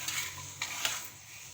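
A spoon stirs spices into pickle oil for mixed-vegetable achar, making brief close scraping and clinking strokes in a quiet kitchen.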